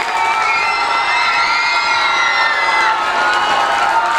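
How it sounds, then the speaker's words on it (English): School children at a school day event clap and cheer together, a loud, dense, continuous wall of shouts and whoops with applause mixed in, steady throughout. "So shall we give a very big clap for CSI?"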